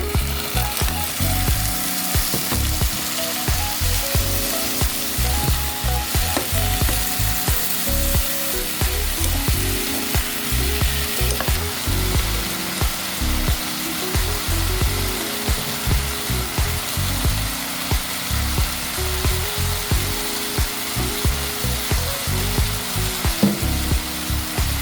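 Chopped tomatoes go into a hot pan and sauté for a Filipino rice dish, giving a steady loud sizzle with clattering stirring under it that runs without a break.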